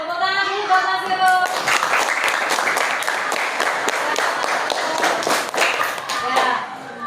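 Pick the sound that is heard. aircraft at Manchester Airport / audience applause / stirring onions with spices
audience applause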